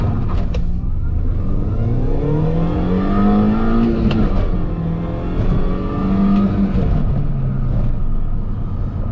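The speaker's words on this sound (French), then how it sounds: "On va faire le petit demi-tour et on est prêt pour l'accélération." A Mini Cooper S accelerates hard from a standstill, its engine note climbing steadily and loudly through the revs with a shift around midway, close and continuous with no talk.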